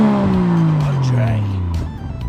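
Toyota Chaser engine giving a couple of quick revving blips, loud and close, the pitch sweeping down as revs fall, with voices talking over it.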